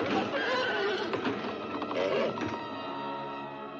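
In the film The Terror, a horse gives a loud, close neigh with a few hoof clops mixed in, then the neigh fades into a lower whinny.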